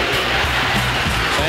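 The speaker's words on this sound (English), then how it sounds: "Fans chanting defense." A basketball arena crowd at a 1972 New York Knicks versus Milwaukee Bucks game chants 'defense' in a steady, rhythmic roar, a dense wall of many voices filling the space.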